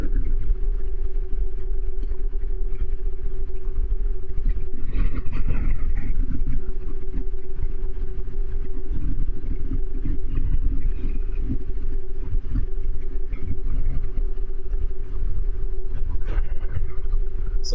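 A Royal Enfield Himalayan fitted with a Delkevic exhaust cruising on the open road near highway speed, a steady engine drone and rumble with wind noise running throughout.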